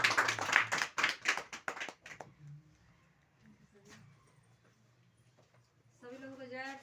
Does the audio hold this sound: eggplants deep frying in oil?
no